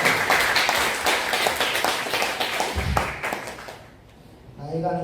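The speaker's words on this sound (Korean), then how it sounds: "감사의 박수 한번 드렸으면 좋겠습니다" Audience clapping fills a Korean church gathering honoring soldiers, dense and sustained, then fades out as a voice begins singing a hymn at the end.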